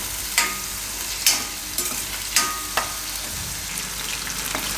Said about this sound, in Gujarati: તો થોડીક વાર પાકવા દેવું ગ્રેવીને.